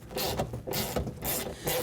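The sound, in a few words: removing bolts from car window regulator guides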